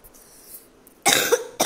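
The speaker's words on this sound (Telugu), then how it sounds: "నా దగ్గు వస్తుంది, చెవులు మూసుకో." Two sharp, loud coughs sound close by after a quiet stretch, the first longer with a rough throaty burst and the second brief at the very end.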